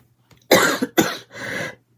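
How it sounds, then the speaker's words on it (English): Several close, loud coughs from one person at a craft table, a quick pair of sharp bursts followed by a longer raspy one, with no talk. "There goes the cough again."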